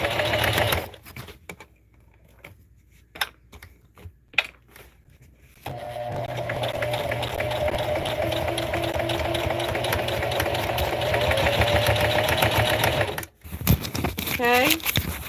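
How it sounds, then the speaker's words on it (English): Sewing machine stitching across the bottom of a tote bag made from placemats, a steady mechanical whir running for several seconds after brief clicks and pauses, then stopping, with a person talking near the start and end. "now I'm sewing across the bottom of the bag"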